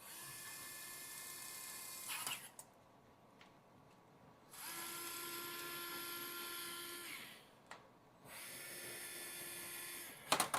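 A DEWALT USB cordless screwdriver driving machine screws whirs in three bursts, a steady high motor whine each time separated by short pauses, fairly quiet and close with no talk.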